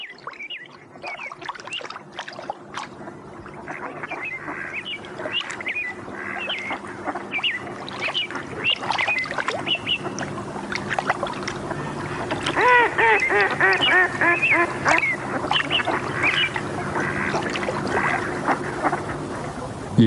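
Ducks feed on dead salmon along the Colorado River, with repeated quacks and calls up close, growing busier and louder toward the end over a soft background of water.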